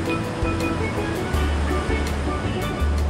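Sea waves wash steadily against the shore beside a cave on a tropical island, a continuous close roar of surf with repeated low surges and hissing spray.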